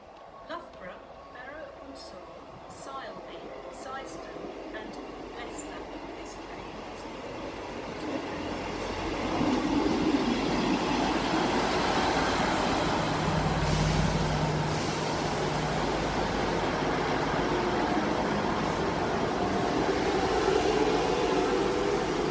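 East Midlands Trains class 158 diesel unit pulling into platform 2 at Beeston station in Nottinghamshire, a steady rumble that swells louder about midway and holds close, with occasional voices and station ambience.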